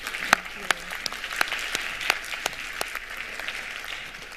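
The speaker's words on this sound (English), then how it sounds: "One more round of applause to our panel," Applause for a conference panel at a bioeconomy and agrifood systems event, a steady patter of clapping from an audience with a few sharper individual claps standing out, moderately loud and continuous throughout.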